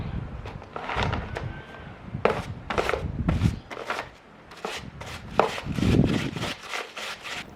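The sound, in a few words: scrubbing a chainsaw chain in kerosene with a brush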